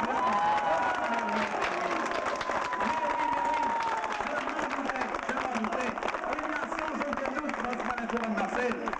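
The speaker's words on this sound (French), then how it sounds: "On l'applaudit bien fort." A festive crowd at an evening costume party applauds and cheers the best costume winner, steady close clapping mixed with crowd voices and chatter throughout.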